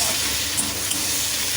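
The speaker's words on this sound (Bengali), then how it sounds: "টমেটোটা একটু কাঁচা কাঁচা গন্ধটা যাওয়া অবধি আমি একটু ভাজবো" Tomato frying in a pan for a Bengali fish curry with potato and eggplant, giving a steady, even sizzle with soft hiss, close and continuous without talk.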